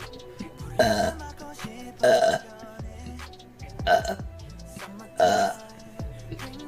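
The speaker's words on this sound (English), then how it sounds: "How many burps in a row can I do?" Four loud, drawn-out burps in a row from a woman, each lasting about half a second with pauses between, close to the mic and with no talking.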